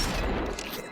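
A shotgun fires in the virtual-reality shooter Population: One, a single loud blast that opens the moment and decays quickly into a short tail.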